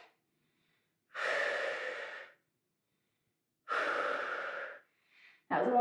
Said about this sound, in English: Breathe 10 seconds.